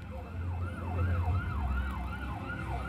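A police medical ambulance siren wails in a steady rising-and-falling cycle, loud and continuous, over a low rumble of road traffic.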